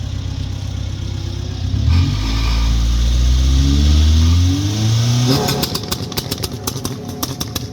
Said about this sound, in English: I think I want to hear that guy's car.